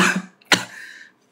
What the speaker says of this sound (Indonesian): Maaf ya teman-teman, saya lagi batuk nih.